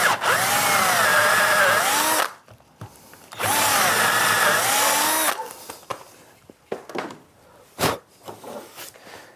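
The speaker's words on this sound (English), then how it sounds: "we've got a dowel that's come through here, so we have to drill that out" A power drill with a 3/8 inch bit bores out a wooden dowel in a woodworking shop, two loud sustained whirring bursts of about two seconds each, followed by quieter scattered knocks and handling clatter.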